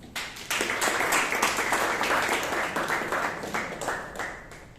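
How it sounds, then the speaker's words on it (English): A Toastmasters meeting audience in Bangalore breaks into a round of applause, a dense, steady clapping that starts sharply, holds for several seconds and gradually thins out. "Let's give them all a huge round of applause."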